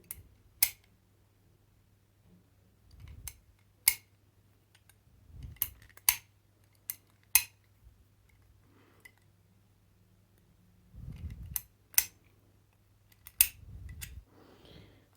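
Parkside adjustable ratchet spanner turned backwards so it slips freely over a nut, giving sparse, close metallic clicks and ticks at irregular intervals, with soft low handling rubs between them in a quiet room.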